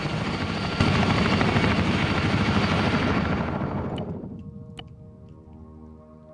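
Loud helicopters in a video game thunder with a rapid rotor chop that fades as they fly off, leaving a quieter hum and a couple of sharp knocks at the end.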